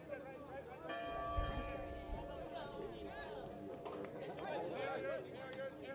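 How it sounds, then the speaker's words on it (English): A ceremonial goal bell rings repeatedly on the far side of the field at a Chicago House AC versus Bavarian United MWPL soccer match at Langhorst Field, heard at a distance under a commentator's talk and crowd chatter. "on the far side of the field ringing the ceremonial goal bell, a new addition to the House this year"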